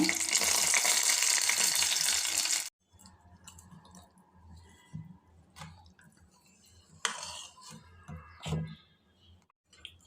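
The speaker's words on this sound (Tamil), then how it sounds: "கடுகு கடலைப்பருப்பு உளுத்தம்பருப்பு கருவேப்பிலை தாளிதம் சேர்த்துடலாங்க" Mustard seeds, chana dal, urad dal and curry leaves tempering in hot oil for coconut dosa batter, a loud dense sizzle for a few seconds that cuts off, followed by quieter clinks and stirring of a pan.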